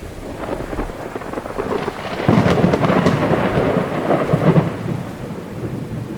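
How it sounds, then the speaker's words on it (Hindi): Thunderstorm with rain in an animated cartoon: steady hiss of rainfall beneath a deep, rolling rumble of thunder that swells midway, loud and continuous, with no voices. "ये तुम्हारी पहली बारिश है।"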